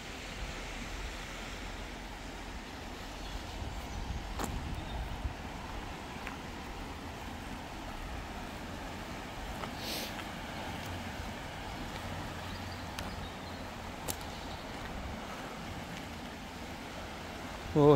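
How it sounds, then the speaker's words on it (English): River water rushing over rapids at The Lloyds in Telford, the river running high, gives a steady, broad roar of churning flow that stays even throughout with no talk. "Water going like mad over the rapids"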